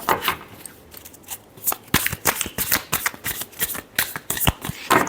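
Close-up hand shuffling of a tarot deck produces rapid, crisp riffling and slapping card sounds in quick uneven bursts, with no speech over them.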